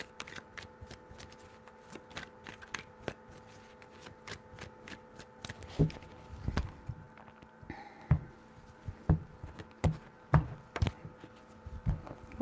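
A deck of tarot cards is shuffled close up: a run of crisp riffling clicks and flaps, then a looser series of soft slaps and taps as the cards are cut and squared, with no talking.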